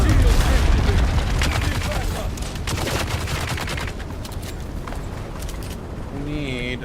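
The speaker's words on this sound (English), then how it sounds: "You hear gunfire?" Bursts of gunfire in the video game Dune Awakening, with dense rapid shots that are loudest at the start, followed by steady firing under talk.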